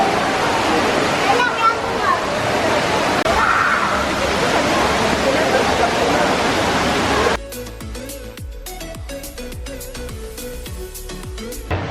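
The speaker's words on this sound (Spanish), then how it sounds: "Una burrada, está increíblemente bonito la cascada que tiene aquí" An indoor waterfall in Singapore rushes in a constant broad hiss for several seconds, then cuts abruptly to quieter indoor sounds with light clatter and tones.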